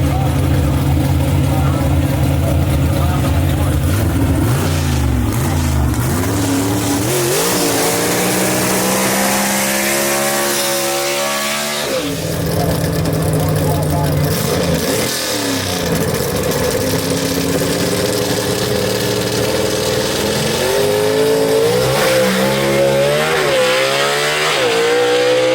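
A gasser drag race car blasts down the strip at Mooresville Dragway, a loud, raw engine wail sweeping up in pitch through repeated gear changes, all under an announcer's running commentary.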